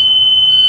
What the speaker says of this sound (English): Pull the handle, the buzzer sounds, window opens 90 degrees, shut the window, buzzer stops.